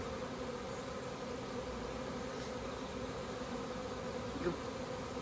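Honeybees drone around a beehive in a dense, continuous buzz that stays steady and fairly close throughout, with no voices.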